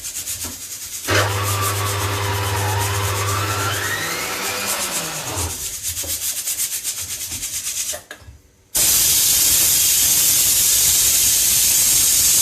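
A pressure cooker lets off a loud, sustained whistle and hissing steam, pausing briefly before a harsh, forceful blast of released steam fills the rest.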